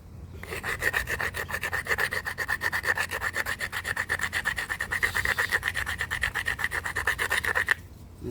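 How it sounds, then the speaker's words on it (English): A sandstone hammerstone grinds horizontally against stone in fast, even back-and-forth strokes, a close rasping rub repeating steadily for several seconds before stopping. "Now I'm going to give it a horizontal grind."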